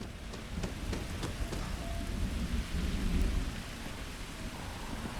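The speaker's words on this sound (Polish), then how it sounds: "O, deszcz." Rain pours steadily in the video game Starfield, a dense wash of falling drops with low rumbling thunder rolling underneath, continuous and moderately loud, with no voices.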